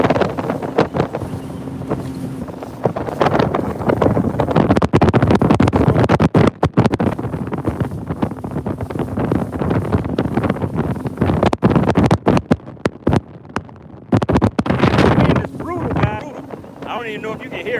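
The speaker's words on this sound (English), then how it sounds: "I don't know if you guys can hear all of this wind." Strong wind roars across the microphone on a running bass fishing boat in rough open water, a steady loud rushing with the motor underneath and brief dropouts, and someone talks through it.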